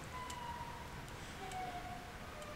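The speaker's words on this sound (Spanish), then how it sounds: "Y el tipo se entretenía con la sirena" A police siren in GTA 5 wails faintly in the distance, a thin rising and falling tone heard from outside over a low steady background rumble, with no talk.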